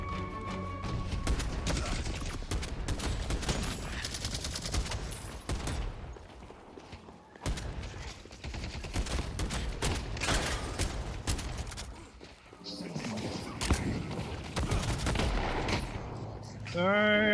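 Semi-automatic gunfire in the video game Deadlock, a dense run of sharp shots spaced closely and holding loud through most of the stretch, with brief gaps, mixed with other game effects.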